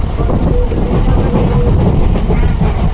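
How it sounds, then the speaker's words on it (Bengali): A passenger train rolls along with a loud, continuous rumble and rattle of the carriages, heard from inside close to the open window with no clear talk. "ট্রেন ঢুকে গেছে, ট্রেনে উঠবো।"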